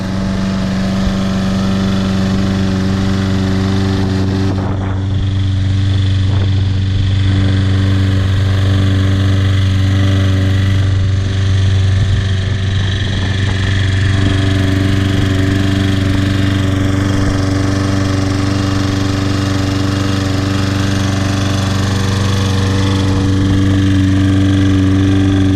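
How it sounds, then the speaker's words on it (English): A 2009 Toro Personal Pace Recycler lawn mower engine runs steadily up close, a loud continuous drone with a constant pitch throughout and no talk. "Very nice 2009 Toro personal pace lawnmower."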